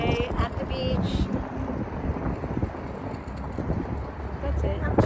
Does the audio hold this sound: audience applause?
no